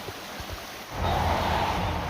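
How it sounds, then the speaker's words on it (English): A creek flows along a hiking trail between Pen Mar Park and Tumbling Run, a steady broadband rush of water that grows fuller and louder midway, continuous and close with no talking. "Stopping by the creek."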